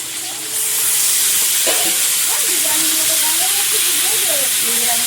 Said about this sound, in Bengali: হালকা ভেজে নিয়েছি এবারে মাংসটা দিচ্ছি